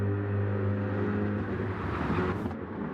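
Race car engines, a Corvette C8, Lexus and AMG, drone steadily at Interlagos in a racing game, a loud continuous engine hum with a brief rising whoosh near the end.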